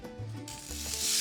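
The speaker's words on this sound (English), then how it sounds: "I'm gonna flip the bread." Bread hitting hot olive oil in a pan with a short burst of sizzling that rises and brightens into a steady frying hiss, close and alone.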